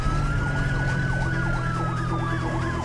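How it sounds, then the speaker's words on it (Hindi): Ambulance siren in a film scene, a loud wailing tone that rises and falls steadily throughout over a steady low engine rumble, with no talk. "क्या ये एम्बुलेंस में डैनियल सर को डाल दिए हैं?"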